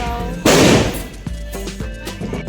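A single loud firecracker bang during Diwali celebrations, followed by crackling, ringing tail.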